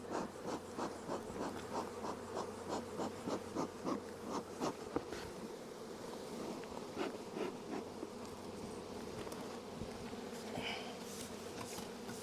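Honey bees buzz steadily around a hive during a September honey harvest, a dense, close drone with individual wingbeats flicking past throughout.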